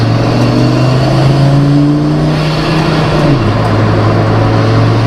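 An Audi S2 race car with an SMS Revo look warms up, its engine holding a loud, steady mid-range drone that climbs slightly, then drops back to a lower idle near the end.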